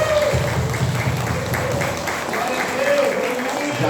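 A church congregation at a mission service breaks into sustained applause, a dense, even wash of clapping from many hands filling the room, with voices audible over it.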